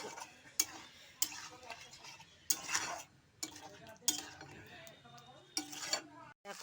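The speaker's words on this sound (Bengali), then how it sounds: "টক দইটাও দিয়ে দেবো দিয়ে এবার ভালো করে মশলাটাকে কষিয়ে নেব" Spice paste with sour yogurt being stirred and fried in a pan for doi potol, heard as irregular bursts of spoon scraping and clinking against the pan with a faint sizzle between the strokes.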